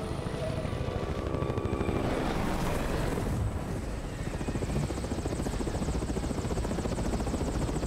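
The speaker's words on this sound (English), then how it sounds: "Who's in the helicopter?" A helicopter in the video game Resident Evil 6 thunders close by with a dense, steady rotor chop that holds loud throughout without speech.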